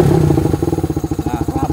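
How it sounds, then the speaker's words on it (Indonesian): A sport motorcycle engine idles steadily without revving, a close, even, low putter with a fast regular pulse. "Mesin aman, ini nggak kita gas."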